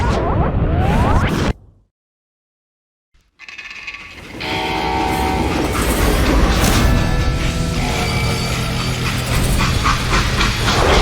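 A freight train in the Wild West shooter Call of Juarez Gunslinger rumbles loudly and steadily after a brief silent gap, with a long horn-like tone and clattering mechanical rail noise.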